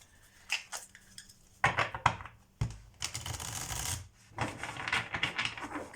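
Tarot cards, a deck still stiff and not bending well, shuffled in quick riffling bursts of papery flutter and soft slaps, close and fairly quiet, with short pauses between passes.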